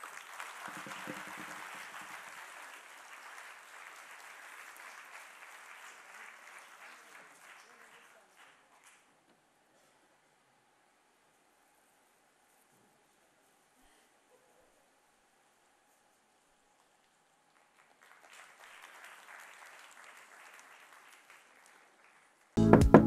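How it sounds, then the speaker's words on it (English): A room full of people applauds, the clapping fading out gradually, then a quiet pause before a second, softer round of clapping starts. "She deserves it, and the loudest round of applause,"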